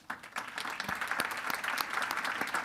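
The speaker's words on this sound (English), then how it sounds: "Please give them a round of applause." At a telecom industry conference in Asia, a hall audience breaks into dense, continuous applause that swells quickly and holds steady, heard at a moderate distance.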